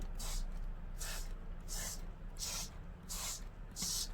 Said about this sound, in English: I'm going to show you what happens when I spray it